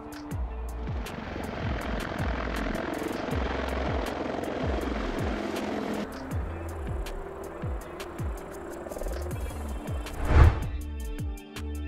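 A Mil Mi-28NM attack helicopter flies nearby, its rotor beating in a fast, regular chop over a loud engine roar that swells and shifts before easing off.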